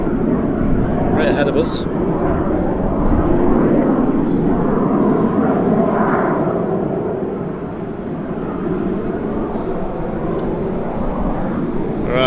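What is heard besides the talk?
Qatar Airways airliner taxiing at Manchester Airport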